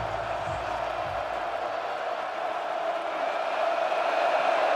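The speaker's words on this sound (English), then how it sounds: "This crowd goes 0 to 100 before every snap." A packed college football stadium crowd at a UCLA game roars and swells before the snap, a broad sustained wash of cheering that builds toward the end, with a commentator's voice faintly mixed in.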